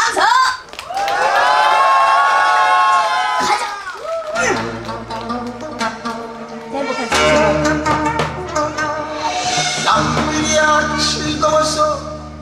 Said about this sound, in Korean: 그런 마음이 드신 분은 박수 한번 쳐보시오